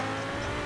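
A car with a punctured tire spins out during an online race in Forza Horizon 4, giving a steady, loud roar of engine and tire noise with no voices.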